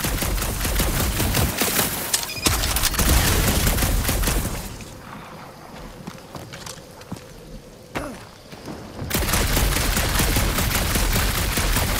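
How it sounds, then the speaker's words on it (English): Rapid gunfire in the Marvel's Guardians of the Galaxy video game, dense volleys of shots that drop away into a quieter stretch midway before a loud burst of firing resumes. "Shooting your way out of every problem again, Peter?"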